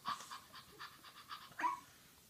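A dog panting on its bed in quick, soft, close breaths, a steady rhythmic huffing with a slightly stronger puff near the end, heard alone without talk.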